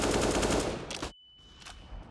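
AK rifle firing on full automatic in a Counter-Strike match on the Overpass map: a loud, rapid rattling burst that runs for about a second, then cuts off abruptly, leaving quieter game ambience and a thin steady tone.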